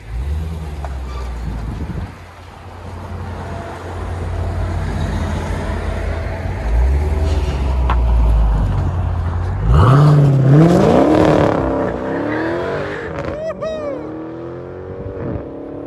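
A 2016 Dodge Challenger Scat Pack with a 6.4-liter HEMI V8 idles with a deep, steady burble, then revs hard several times, its exhaust note rising and falling in loud, close sweeps before settling back to idle.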